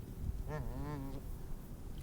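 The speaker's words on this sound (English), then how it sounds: "It's a duck." A single duck quacks once in a drawn-out, nasal call lasting under a second, over a steady low rumble of background noise.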